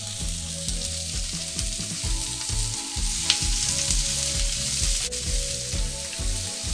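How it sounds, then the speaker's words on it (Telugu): Onions, green chillies and capsicum frying in hot oil for gobi manchurian, a bright continuous sizzle with scattered crackles, heard close over a low rhythmic background hum, no voices. "కొంచెం గోల్డ్ కలర్ వచ్చేంత వరకు ఆనియన్ ఫ్రై చేయాలి"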